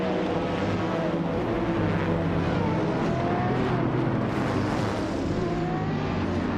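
A 2016 Ford GT LMGTE race car in a racing video game roars on a steady, loud engine note that rises and shifts with faint pitch sweeps, and no one talks over it.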